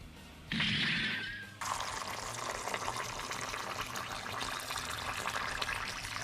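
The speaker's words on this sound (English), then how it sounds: "put some water into your rice, make it about a segment of your finger above the rice level" Water pours into a pot of rice that has been soaked for about 20 minutes, a loud splashing rush that begins suddenly and settles into a steady filling sound with no talk.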